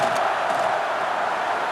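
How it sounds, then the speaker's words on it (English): A college football stadium crowd roars steadily during a field goal attempt at Mississippi State versus Texas A&M, a dense, continuous wash of distant voices with no single shout standing out. "This crowd trying to do its part to get inside the kicker's head."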